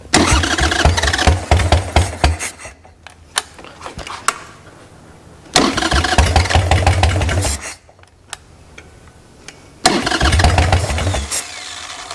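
A wrecked Harley-Davidson Sportster motorcycle is cranked repeatedly, three loud bursts of starter churning and sputtering engine catching briefly, each cutting out into short quiet gaps.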